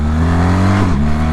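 A 2024 BMW R 1300 GS adventure motorcycle engine drones loudly and steadily, with a quick shifter gear change near the end that dips the engine note and brings it back.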